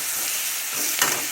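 Six crushed garlic cloves sauté in oil while making a bitter gourd fry, giving a steady close sizzle with a brief stir or scrape near the end; no one speaks.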